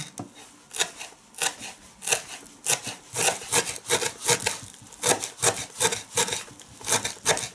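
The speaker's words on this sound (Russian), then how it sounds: "Нарезаю мелко зелень." Rapid, scratchy knife strokes finely chopping fresh herbs on a board in quick bursts, a rough rhythmic rubbing sound close to the microphone.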